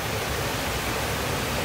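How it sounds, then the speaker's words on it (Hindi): Water pouring steadily down a waterfall at an outdoor hermitage, a dense, constant rushing roar that fills the whole clip evenly, close and loud with no other sounds. "ये पानी ऐसे इस तरीके से गिर रहा है।"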